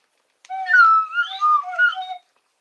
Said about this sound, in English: I bought me a slide whistle. It's better than this one.